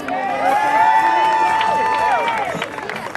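An awards ceremony crowd cheers, whoops and applauds for an honoree at a Fort Greene Park community hero event: loud, dense clapping and shouting sustained throughout, with a whistle-like tone rising above the babble.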